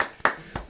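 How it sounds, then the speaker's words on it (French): A few hand claps in a small TV studio: two or three sharp, separate slaps spaced evenly apart, close and moderately loud. "Allez, on applaudit."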